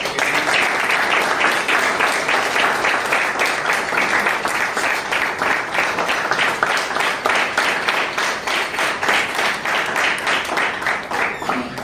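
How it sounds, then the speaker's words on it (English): A room of attendees at a college business event applauds steadily, many hands clapping in a sustained, even patter for about twelve seconds, fairly loud and without talk. "can we give them a round of applause?"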